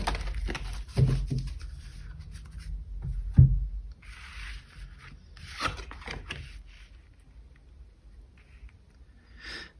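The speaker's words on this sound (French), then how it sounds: "Je vais encore tirer 2 cartes." Tarot cards are drawn and handled in a quiet room, with soft rubbing and sliding swishes and a few light taps, close by and intermittent, separated by near-silent pauses.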